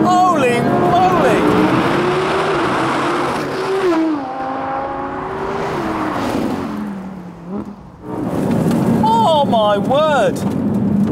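A Porsche 911 Turbo accelerates hard in a drag race against an Audi R8 V10 Plus, its engine note climbing loudly through repeated gear changes while an excited voice shouts over it.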